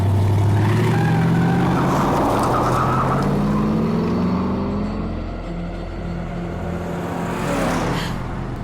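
A car pulls away and drives off, its engine note climbing then easing as it moves away, loud and close at first with no talk over it.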